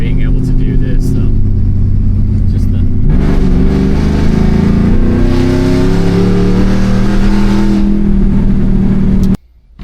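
An LS1 V8 with a T56 manual gearbox in a 1992 Chevy C1500 pickup drones loudly while driving. It rises in pitch as it accelerates after a few seconds, then cuts off abruptly near the end.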